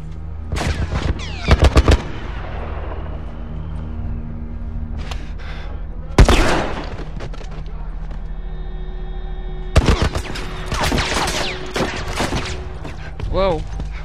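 A military turret in The Last of Us fires machine-gun bursts in several loud, close volleys separated by quieter stretches of debris and ambience.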